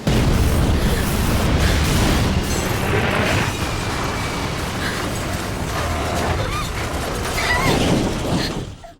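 Loud, rumbling bomb explosions and bursts in the video game Clock Tower 3 blend into a continuous dense roar with crackling debris, sustained for several seconds before cutting off.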